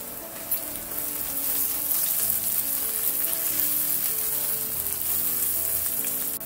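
Curry leaves and green chillies crackle and sizzle in hot oil for a prawn fry, a dense, steady frying hiss that runs loud and close throughout with no pause.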